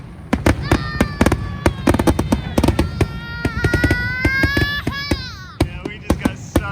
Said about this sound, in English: we're sitting and watching the fireworks